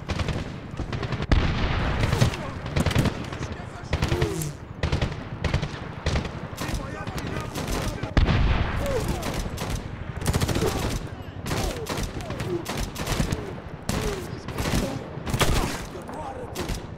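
Gunfire in the video game Medal of Honor (2010) fills a dense battle scene. Rapid bursts, automatic fire and booming impacts follow each other almost without pause, loud and near, with shouted voices mixed in.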